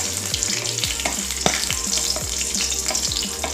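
Whole spices roast in hot oil in a pan for a vegetable gravy, making a steady close sizzle with occasional stirring scrapes and a soft musical tone underneath.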